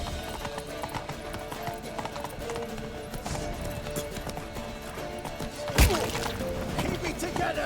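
Horse hooves clip-clop at a steady galloping rhythm throughout, with a sharp crash near the end, set in The Witcher 3: Wild Hunt during a chase toward a temple. Shouting voices and game music sit around the hoofbeats.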